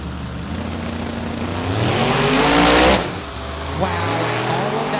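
Drag racing cars at Tucson Dragway in the staging lanes, engines revving loud and close with a rising surge that peaks and cuts off sharply, then settles back to a rough idle while an announcer talks over it.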